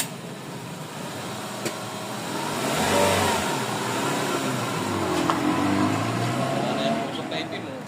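Toyota 4AFE engine revving after a repair for low power, black smoke and idle trouble, the pitch rising and falling through a couple of moderate revs at close range, with people talking over it.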